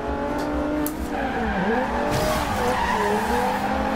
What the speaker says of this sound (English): it does allow us to slide the car pretty damn nice